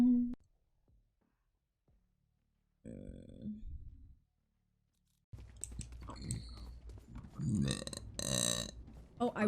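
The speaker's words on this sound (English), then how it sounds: "oh, I burped and it woke him up." A woman burps loudly several times at close range amid chewing and clicking noises, with brief quiet gaps between the burps.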